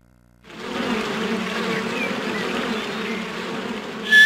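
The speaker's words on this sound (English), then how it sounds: "Hey, are those bees stopping you from passing by?" In the Winnie the Pooh game Rumbly Tumbly Adventure, a swarm of bees buzzes as a steady, loud drone that starts suddenly after a moment of quiet and holds, with no speech.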